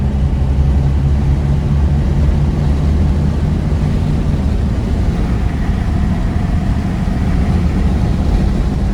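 A 1976 Plymouth Road Runner with a 360 engine cruises along, its steady low engine drone and road rumble filling the cabin continuously, with the pitch easing slightly midway as the transmission shifts.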